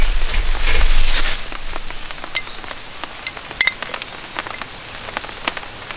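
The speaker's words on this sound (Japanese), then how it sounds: "1時間後に雨が降り始めます。 降り始めてるけども。" Rain beginning to fall at a campsite, a steady close patter of drops on a surface with a brief low rumble early on and a few sharp clinks.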